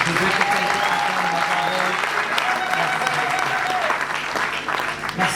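A church congregation at a thanksgiving worship service claps in sustained, dense applause, loud and close, with a voice rising over it briefly.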